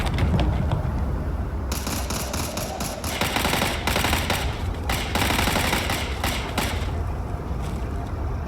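Sustained automatic gunfire from a firefight in the video game Starfield, with dense rapid bursts and volleys layered over a constant loud background rumble throughout.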